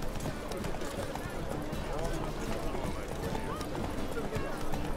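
A horse's hooves clip-clop steadily while ridden through The Witcher 3 video game, a quick rhythmic trot under game ambience and someone talking.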